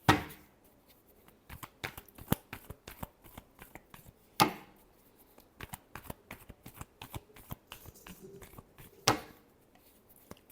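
Tarot cards being shuffled in repeated bursts of crisp riffling and snapping, close and fairly loud, with sharper slaps near the start and at intervals, no talking.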